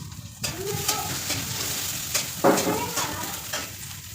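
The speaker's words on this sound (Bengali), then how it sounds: "তরকারিগুলো ঢেলে দিয়েছি" Curry vegetables tipped into a hot pan sizzle steadily while a utensil scrapes and stirs them in repeated strokes, with a brief louder clatter partway through and a soft voice faintly in the background.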